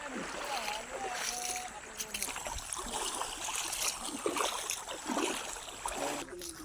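Fast-flowing water rushes past at the Bhuvad Dham shrine, a continuous faint splashing and gurgling stream heard from nearby, with people talking over it.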